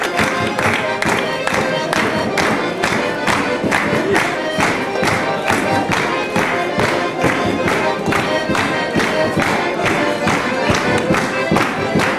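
A crowd at a Saloio anniversary party with dancing claps along in steady rhythmic unison for a folk and cultural group, loud and sustained throughout with shouts mixed in.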